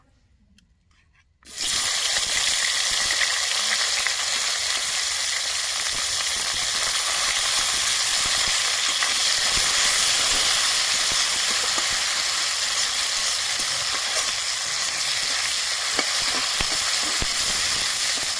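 Chopped onions hit a hot pan still coated from frying tomatoes, with no extra oil, and break into a loud, continuous sizzle and hiss that holds steady for the rest of the clip.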